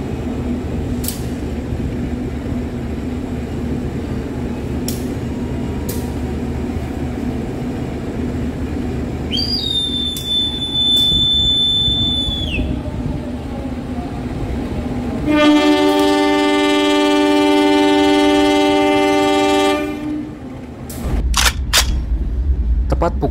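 The Gumarang passenger train rumbles steadily, then a loud horn blasts for several seconds, followed by a longer sustained horn as it departs Semarang.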